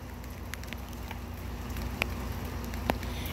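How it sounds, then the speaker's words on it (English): Steady rain falls outside in North Phoenix as a constant soft hiss, with a couple of brief sharper drips or taps standing out over the continuous wash. "It's raining outside."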